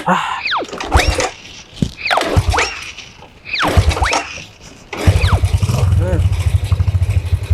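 An old motorcycle is kick-started repeatedly, several short sputtering attempts with rising engine bursts before it catches and settles into a rapid, loud, uneven idle, with people talking in between.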